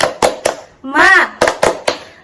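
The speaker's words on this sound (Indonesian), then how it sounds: "Ayo kita tepuk semangat." A group claps hands together in a sharp, rhythmic pattern during a classroom-style energizer: three crisp claps, a brief chanted vocal shout, then three more claps, close and loud.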